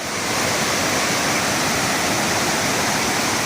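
The Tujuh Bidadari waterfall in Aceh Utara roars steadily as a dense, continuous broadband rush of falling water, loud and close, with no voices.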